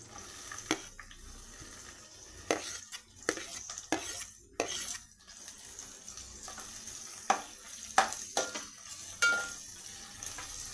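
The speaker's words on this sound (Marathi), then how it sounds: "कांद्याला पण छान परतून घेऊया आपण, जोपर्यंत त्याचा कलर चेंज नाही होणार तोपर्यंत।" Chopped onion sautéing in a pan with garlic and green chilli for a leafy red amaranth bhaji, with soft sizzling under repeated scrapes and clinks of a spatula stirring against the pan.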